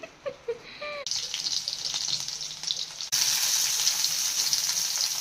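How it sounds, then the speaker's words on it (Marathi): Wild mushrooms being washed in water in a village kitchen: a few light splashes, then running water gushes steadily and grows louder partway through, with no talk. "मी इकडे रवणं धुतीये बघा किती."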